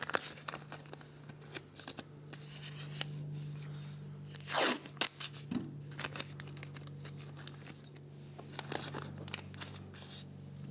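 Painter's tape being pulled and torn off the roll during motorcycle brake work, giving crackly ripping and crinkling with one longer loud pull near the middle, close up over a steady low hum, no talking.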